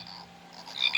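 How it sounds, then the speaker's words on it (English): A Wild Republic toy frog sounds a recorded northern leopard frog call, a brief rising croak that swells at the end over a low electronic hum. "Northern leopard frog."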